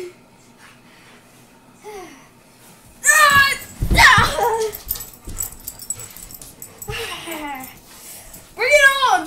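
A husky plays tug of war with a rope against a boy, growling, whining and yipping in bursts amid excited shouts and laughter from a child.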